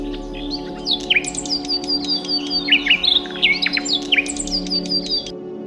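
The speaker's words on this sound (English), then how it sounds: "watching birds flying in and out of the trees," Small birds trill and tweet in quick, high, busy bursts, close and clear over a faint steady low hum, then stop abruptly.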